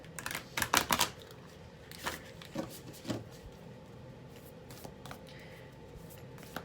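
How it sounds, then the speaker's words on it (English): Quick riffling bursts of a round tarot deck being shuffled, a cluster of crisp flutters early then sparser soft snaps, close and fairly quiet. "let's get a little shuffle on"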